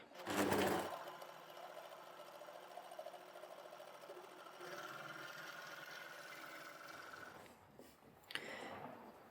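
An overlocker runs steadily, stitching fabric that is guided round in a circular motion for a curved seam; a continuous close mechanical whir holds even for several seconds, with a louder burst at the start and handling noises near the end.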